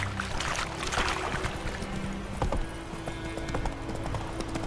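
Horse hooves clip-clopping at a steady trot in The Witcher 3: Wild Hunt, a rapid close rhythmic patter of hoofbeats over ambient game sound, with no talk.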